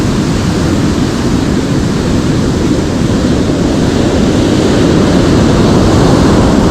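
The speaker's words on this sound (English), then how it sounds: "All the waves are breaking." Waves break continuously along a lakeshore during perch fishing, a loud, dense roar of surf mixed with rushing wind, steady and unbroken throughout.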